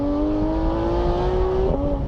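A Porsche 911 GT3 of the 991 generation drives at around 3,000 rpm, its flat-six engine a steady, fairly loud buzzing drone with a slight pitch rise and a brief dip near the end, heard from inside the car.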